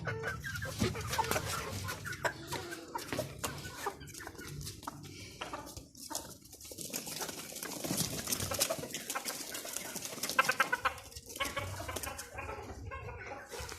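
Hens let out of their coop cluck and chatter continuously, with many birds close by calling over one another, and someone speaks briefly.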